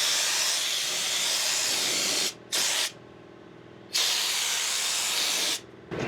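A rust-prevention coating sprayed under a vehicle gives a loud, steady hiss that runs in long bursts, cutting out briefly twice before resuming, with no talking.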